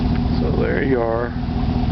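A 2019 Chevrolet Silverado Z71 pickup engine fires up and settles into a low, steady idle rumble, fairly close, with a brief rising whine during the start.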